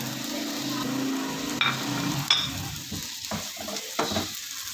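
A small, finely chopped onion fries in hot oil in a pan, giving a steady close sizzle with a few sharp metallic scrapes of stirring partway through.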